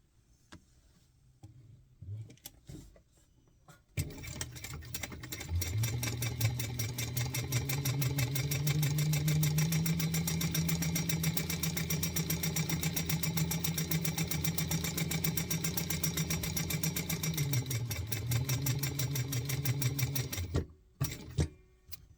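A sewing machine runs continuously for about seventeen seconds, stitching a bag pattern with a rapid, even mechanical chatter and a steady hum. Its start and stop are close and clear, and no one talks.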